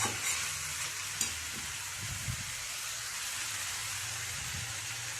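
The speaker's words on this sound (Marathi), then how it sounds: "आता ही भाजी आपली चांगली तेलात परतून झालेली आहे" Radish leaves sauté in oil in a pan, a steady broadband sizzle running throughout with a few soft stirring scrapes and knocks, close and even.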